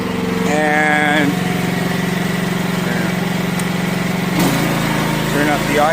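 A CFG Industries H15R mini excavator engine runs at a steady idle close by, a continuous mechanical drone with brief whining hydraulic tones over it and a shift in engine note near the end.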